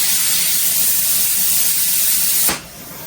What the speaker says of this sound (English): you can hear that's pushing the water through there and draining this